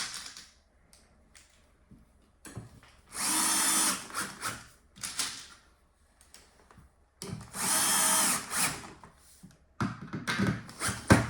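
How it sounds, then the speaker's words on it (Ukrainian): Power screwdriver driving euro screws while assembling a Safari desk, two sustained loud whirring bursts of a few seconds each, separated by quieter clicks and handling noises of parts and tools, with no talking. "Беремо євроглейд і закріплюємо."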